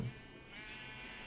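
Sheep bleating in the Minecraft video game, a steady, drawn-out game-sound bleat running through the whole short moment at moderate loudness, with no talking.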